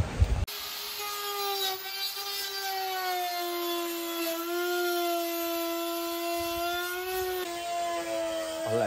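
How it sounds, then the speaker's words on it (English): Power router cutting curved plywood for a van ceiling, a loud high whining drone with slowly shifting pitch that starts abruptly after a brief knock and runs close and steady without talk. "We're gonna route out around here."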